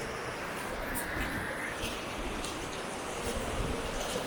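Rushing waterfall in the hills near Kasol, Himachal, a steady broadband roar of falling water throughout, close and fairly loud with no break.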